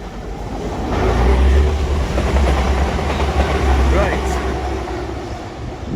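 A Class 185 diesel passenger train rumbles past close by, a steady low drone with engine hum rising and falling over several seconds, with faint voices in the background.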